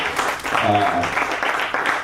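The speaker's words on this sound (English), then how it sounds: "Round of applause for yourselves for coming out tonight." Audience applause at a comedy show, a brief burst of clapping with a voice speaking and a short sung or hummed tone over it.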